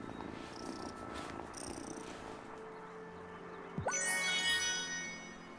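A cat purrs steadily and softly in the video game Wylde Flowers, a low continuous rumble that runs throughout, with a bright chiming jingle rising near the end.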